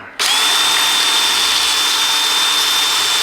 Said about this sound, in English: Now I've got to drill a 3mm hole down here